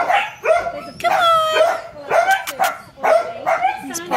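A puppy at a dog rescue in Crete barks and yelps in short high-pitched bursts, several in a row with brief pauses, close and loud.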